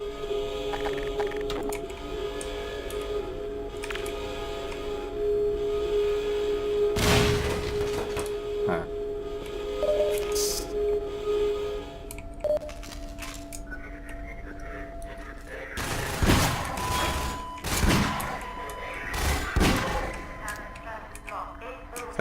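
Heavy gunfire from a big gun in the Half-Life 2 video game, several loud bursts of shots spread across the stretch amid game noise and a steady hum.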